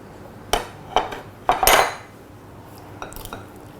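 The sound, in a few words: stirring beef curry in a pot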